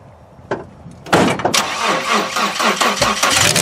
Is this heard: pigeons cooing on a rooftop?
no